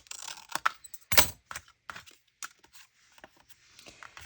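Scissors snip through a paper filmstrip close by, giving a few sharp crisp cuts with one louder snip, followed by light rustling and handling of the paper.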